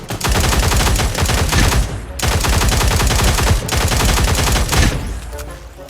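Rapid automatic gunfire in the video game Cyber Hunter comes in loud, dense bursts from close range, broken by two brief pauses and tailing off at the end.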